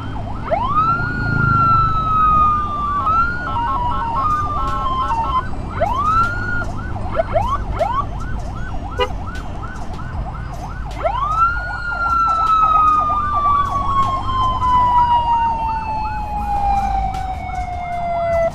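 Ambulance siren sounding continuously while being escorted along a congested road, cycling through rising and falling wails and rapid yelps, loud and close over steady traffic and engine rumble.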